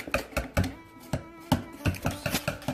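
A whisk or utensil beats crepe batter in a bowl, giving a steady run of quiet, sharp taps roughly every half second, close by and with no talk.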